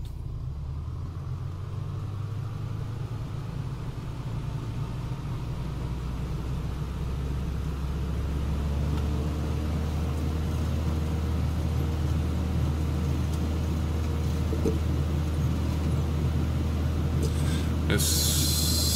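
Steady low droning of a Piper PA-38 piston engine at full throttle on a takeoff roll in a flight simulator, a constant loud hum that holds even through the clip, with a brief click near the end.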